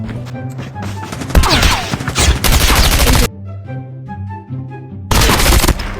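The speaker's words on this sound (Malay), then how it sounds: "Kita pun tembak noob dapat Aziz." Rapid bursts of automatic gunfire from a mobile shooter video game, loud and dense, with a brief lull of quieter in-game sound before firing resumes.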